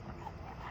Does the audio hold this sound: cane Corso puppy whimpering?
yes